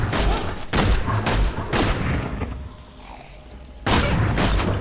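Repeated attack fire in the video game Diablo III, heavy booming bursts with short gaps between them, followed by a quieter stretch and then another loud salvo.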